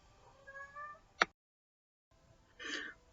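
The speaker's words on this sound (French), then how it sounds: "J'ai le chat qui veut sortir." A house cat gives a clear meow wanting to go outside, a drawn-out harmonic call followed by a short loud burst, then a brief pause and a second softer, breathy meow close by.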